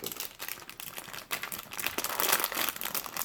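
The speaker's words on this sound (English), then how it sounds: "I apologize for all the crinkling." Plastic packaging from a Re-Ment Pokémon Aqua Bottle toy collection crinkling close up in bursts of busy crackling for a few seconds, with no talking.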